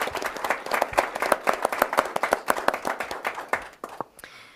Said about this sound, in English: Kale Wicker a round of applause.